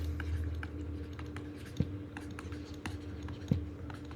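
Marker or chalk strokes scratch across a board as a lecturer writes a definition in ring theory, with short rapid taps and squeaks and two sharper knocks, over a low room hum.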